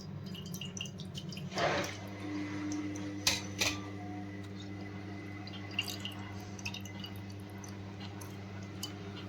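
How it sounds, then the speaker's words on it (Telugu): Faint, sparse drips and small wet splashes fall at irregular intervals over a low steady hum, quiet and close. "ఓన్లీ జ్యూస్ని మాత్రం ఇలాగా ఒక బౌల్లోకి తీసేసుకోవాలి"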